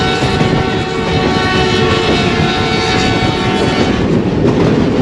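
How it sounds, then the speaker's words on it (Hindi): The Ravi Express passenger train crossing the bridge over the Ravi river on a branch line from Shorkot to Lahore, a loud, continuous rumble and rattle of wheels and carriages heard from on board, steady and without talk. "अब दरियाए रावी से गुज़रने लगी है ट्रेन।"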